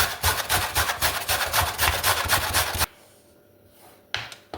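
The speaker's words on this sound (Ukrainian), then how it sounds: "Натираю морку, Можна на крупшу" Fast, rhythmic rasping strokes of a carrot being grated on the fine side of a grater, continuous for a few seconds before stopping, followed by a couple of faint knocks.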